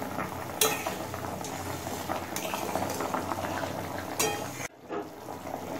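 Cauliflower florets boiling in water in a covered pot while making moong dal with fish head, giving a steady close bubbling simmer with a few sharp clinks of a lid or utensil and no talking.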